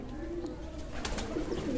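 Pigeons coo close by in soft, low, throaty warbling calls, several overlapping in quick succession over a muffled indoor background.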